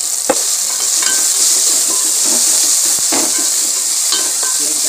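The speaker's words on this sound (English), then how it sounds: "Let it become soft and mix it well with each other." Loud, continuous frying hiss from ginger garlic paste in a pan for shahi chicken, punctuated by repeated spatula scrapes and stirring strokes close up, with no voices.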